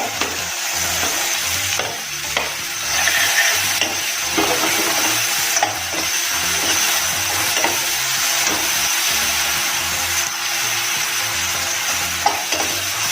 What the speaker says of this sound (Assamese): পিঁয়াজখিনি 1 মিনিট সময়ৰ কাৰণে এনেকৈ ফ্ৰাই কৰি ল'ম।